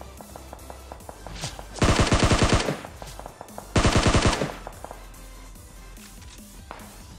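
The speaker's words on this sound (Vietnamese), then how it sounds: "thằng nào bắn vậy?" Two loud bursts of automatic gunfire from an M249 light machine gun in PUBG Mobile on the desert map, each about a second long, over a quiet background of footsteps and faint clicks.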